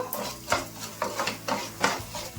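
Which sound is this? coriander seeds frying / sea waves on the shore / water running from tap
coriander seeds frying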